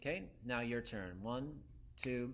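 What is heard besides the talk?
None of the usual background noises is heard.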